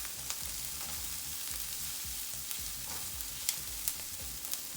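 Garlic is added to a pan of potatoes and translucent onions for corned beef hash and gives a steady close sizzle of frying. Soft stirring clicks and scrapes sound at intervals, and no one talks.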